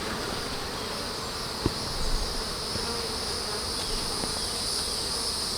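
A steady honeybee buzz drones throughout a bee yard, with a constant high whine and occasional faint knocks, no voices present.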